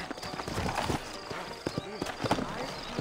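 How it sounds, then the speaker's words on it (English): Horse hooves clop in a rhythmic run through the Wild West video game Red Dead Redemption, a steady close series of beats at moderate loudness, with voices talking over the hoofbeats. "I got the horses saddled up and ready out front."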